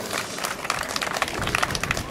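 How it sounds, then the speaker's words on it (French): An outdoor audience on a cold day applauds the second-to-last candidate at the Miss Alsace 2013 pageant, a dense patter of clapping running throughout at moderate loudness with no voices over it. "On peut l'applaudir également, notre avant-dernière candidate"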